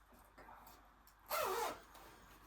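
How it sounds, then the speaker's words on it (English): A quick zipper pull rasps once, close and fairly loud, for about half a second against a quiet room with faint background noise. "the zipper is kind of annoying"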